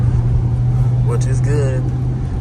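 A 2012 Jeep Grand Cherokee SRT drives at night in auto mode, its engine giving a steady low drone heard from inside the cabin while a person talks over it.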